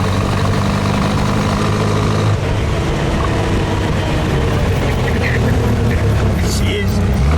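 A 1915 Scripps Booth Vitesse V8 driving along: a loud, close, steady rumbling engine with rattling vibration, ongoing throughout and brightening slightly when taking a corner, with someone talking in the car.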